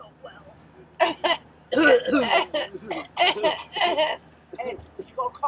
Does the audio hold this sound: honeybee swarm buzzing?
no